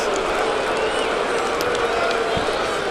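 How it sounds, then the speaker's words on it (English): Yankee Stadium crowd at a Tigers–Yankees baseball game roars steadily, fans on their feet awaiting the final out, a dense, loud, continuous cheer with no break. "Well, you hear the crowd getting all fired up."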